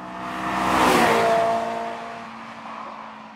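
Honda engine revving hard toward a 9,000 rpm limit with a thrashy top end, a loud buzzing note swelling then easing back as the car drives, with no talk over it.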